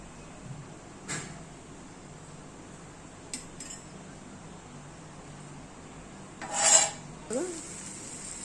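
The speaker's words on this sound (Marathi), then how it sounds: "आता आपण तावा पण गरम झाला आहे आपण त्या तेल लावून घेऊ" Oil being rubbed over a hot tawa griddle while methi paratha is cooked: a few faint, scattered scraping and rubbing strokes, with a louder rasping burst near the end, against a quiet kitchen hiss.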